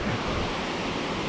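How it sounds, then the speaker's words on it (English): Steady, full-bodied roar of a big muddy waterfall called Sawblade Fall on a hiking trail, a continuous broadband rush with no breaks and no voices. "Wow, this is Sawblade Fall."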